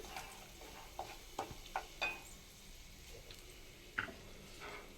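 Pieces of boiled egg fry in hot oil in a pan, giving a steady low sizzle broken by scattered soft ticks and stirring scrapes, close and fairly quiet, with no voices.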